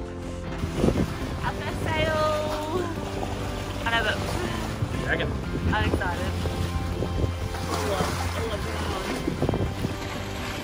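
Sailboat under way in the wind, with steady wind and water rush around the hull and people talking over it throughout.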